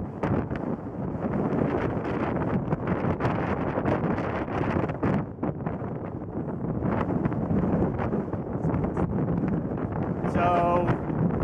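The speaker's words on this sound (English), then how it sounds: "wind coming pretty much west, maybe slightly west-southwest" Steady wind gusting across a west-facing hilltop slope-flying site at Round Butte, a continuous broadband roar buffeting the microphone throughout, with a brief faint tonal chirp near the end.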